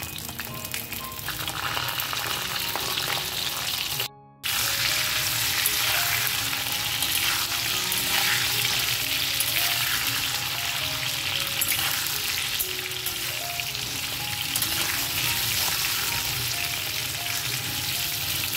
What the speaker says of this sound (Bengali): তেলটা গরম হয়ে গেলে আমি পটলগুলো ছেড়ে দেবো